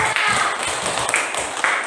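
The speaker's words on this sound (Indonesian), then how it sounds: "tepuk tangan untuk kelompok yang" Schoolchildren in a classroom clapping for a presenting group, a lively burst of overlapping claps with distinct sharp hits, voices chattering among them.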